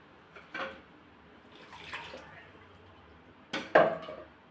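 Tamarind water splashes into a pan of restaurant-style fish curry in a few short, separate pours and drips, fairly close but quiet, with no talking.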